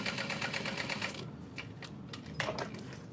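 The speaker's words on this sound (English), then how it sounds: "So I'm gonna add 2 stitch lines." A sewing machine runs a fast, steady stitching burst while sewing two stitch lines on a separate seam of a test diaper bag, then pauses before a few short, quieter stitches and handling clicks.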